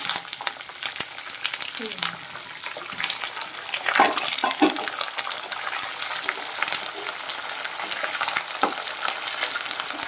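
Curry leaves frying in oil and being stirred on a stove, a steady crackling sizzle with scraping stir strokes through the middle, close and alone with no talk.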